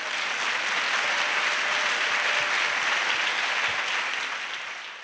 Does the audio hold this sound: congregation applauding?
yes